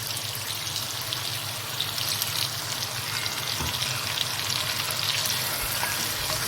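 Water poured into a pan of browned chicken with tomatoes for a chicken bhindi curry sets off a loud, continuous sizzle and bubbling hiss, close and steady with no talking.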